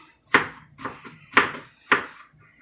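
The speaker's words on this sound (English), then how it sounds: "If you dice it just right, you ain't even gotta keep cutting it." A kitchen knife dices an onion on a board for a shrimp seafood boil, giving four sharp, close chops at an uneven, unhurried pace with short pauses between strokes.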